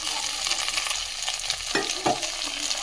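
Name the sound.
stirring potatoes and soaked cashews in a pan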